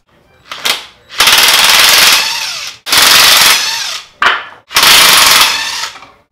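An impact wrench spins 9/16 bolts off an engine girdle during a rear main seal and oil pan gasket repair. It fires several loud, close, rattling bursts, each a second or more long, separated by short pauses.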